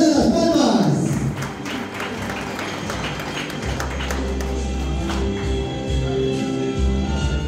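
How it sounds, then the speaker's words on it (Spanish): Guests clap for the godparents at a quinceañera celebration, a steady wash of many hands that runs through the whole stretch, mixed with a low droning background and some voices. "¡Fuerte las palmas para los padrinos de los 15 años!"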